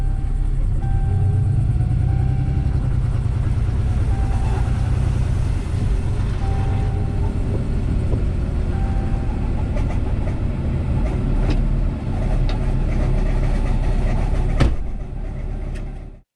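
A truck engine, just driven through water, rumbles loud and steady, running rough, with faint high squeals from squeaking belts over the low drone throughout.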